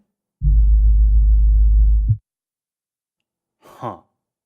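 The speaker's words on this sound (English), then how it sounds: "switch from pink noise to 52 Hz sine wave" A steady low 52 Hz sine-wave hum holds for under two seconds, then cuts off abruptly; after a pause, a brief soft noise follows.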